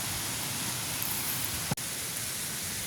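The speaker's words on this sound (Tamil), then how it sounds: "காத்தாண்டா சும்மா பயங்கரமாக அடிக்குது" Strong wind gusting outdoors in a village tapioca field, a loud continuous broadband rush with no talk, broken by a single sharp thump near the middle.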